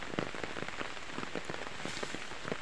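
Steady rain pattering on the betel nut (areca palm) farm, a dense continuous hiss of drops with brief louder splashes, close and unbroken for the whole stretch, no voices.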